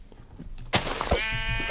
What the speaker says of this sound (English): Black sheep surrounded by white sheep.